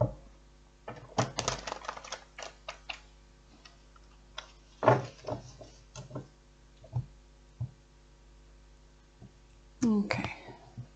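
Tarot cards are shuffled by hand, producing bursts of quick crisp riffling clicks and taps in irregular clusters, close and fairly quiet, with a voice speaking softly at moments.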